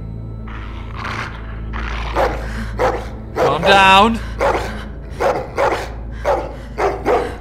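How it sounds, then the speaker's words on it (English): A dog in The Walking Dead video game barks repeatedly and lets out a growling, roaring yelp, sharp close barks in a rhythmic series while a character speaks over it. "You said dogs brought back bad memories."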